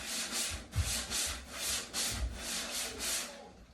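Someone hand-sands the surface of a Christen Eagle aircraft in steady back-and-forth strokes, a close rhythmic rasp repeating about every half second; no talking.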